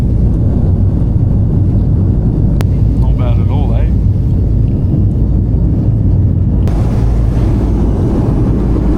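Steady, loud engine drone fills a military transport plane's cabin on a flight from La Paz toward Uyuni and the Salt Flats, broadband roar running continuously with a brief voice partway through.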